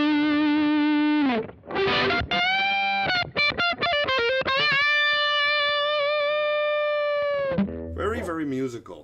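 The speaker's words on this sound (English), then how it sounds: "Nice and singing distortion tone." Electric guitar played through a Walrus Audio Iron Horse V2 LM308 distortion pedal, treble dialed back, giving a singing, sustained overdriven tone; a run of held notes and quick phrases, loud and close, with no talking.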